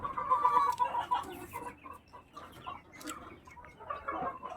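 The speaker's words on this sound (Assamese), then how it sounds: "ইয়াতে মাইকী মুৰ্গী নাই, অকল মতা মুৰ্গী আছে।" Roosters on a nearly empty poultry farm cluck in short, scattered bursts, close by and moderately loud, with quieter gaps between the calls.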